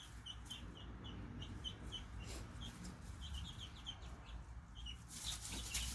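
Chickens fighting on a farm, with repeated sharp clucks and squawks and bursts of flapping wings, fairly close and alone without talk.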